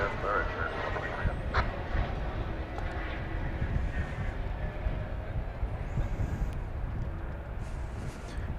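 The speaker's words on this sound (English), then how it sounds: "We've got the flight to Maui just about to take off here." A plane bound for Maui taking off at DFW Airport, a distant steady jet engine rumble and roar heard from afar, with faint radio chatter at times.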